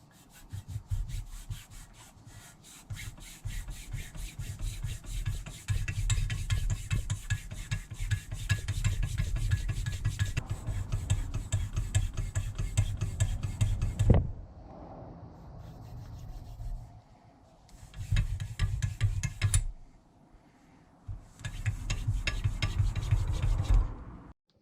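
A motorcycle part from a BMW K100 cafe racer build, clamped in a vise and polished with compound: long rhythmic rubbing strokes in close continuous bursts, then a pause and two shorter bursts.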